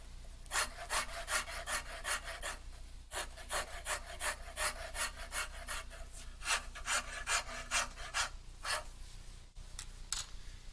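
Draw knife shaving a wooden cabriole leg, with steady rhythmic scraping strokes repeating close up, about two per second, each a bright rasping pull, with brief pauses between bursts.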